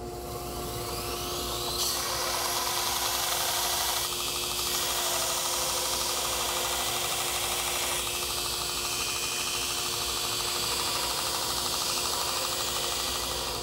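A power grinder or sander removes material from a handmade knife blade to smooth its taper, giving a steady, loud, continuous whine that holds evenly for the whole stretch with slight shifts in pitch.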